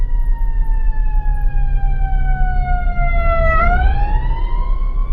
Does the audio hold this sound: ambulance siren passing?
yes